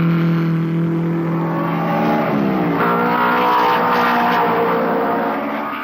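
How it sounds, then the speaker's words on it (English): 1950s German Grand Prix racing car engines roar at high revs, their pitch sweeping as the cars pass close by, loud and continuous. "the German cars looked and sounded most impressive"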